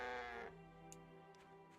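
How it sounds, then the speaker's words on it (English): Cows lowing in the farming game My Time At Portia, one long drawn-out, bleat-like call that fades after about half a second, followed by quieter game ambience with a few faint clicks. "Such enthusiastic cows."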